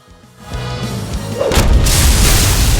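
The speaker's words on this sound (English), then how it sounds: "Disable button merely launched missiles!" Missiles launching in the video game Supreme League of Patriots: a deep boom builds into a loud, sustained roaring rumble with a broad hissing rush, steady and dense to the end, with no voices.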